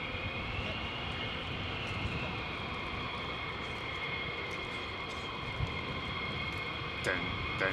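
A military jet taxis out at RAF Lakenheath, its engine giving a steady, broad roar with a high whine layered on top, held evenly throughout with a brief swell near the end.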